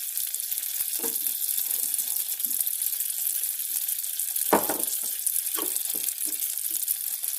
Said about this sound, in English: you want to let this sizzle